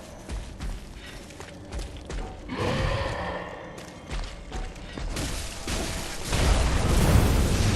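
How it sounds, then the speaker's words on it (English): An enemy in the video game Bloodborne fires a cannon at close range, a loud booming blast with rumbling low end that swells toward the end amid other game noise. "he just busts out the cannon when I'm standing right next to him"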